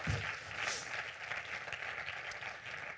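Church congregation applauding and cheering in praise during a sermon, a dense wash of clapping that stays steady and fairly loud throughout, with a brief crowd swell near the start.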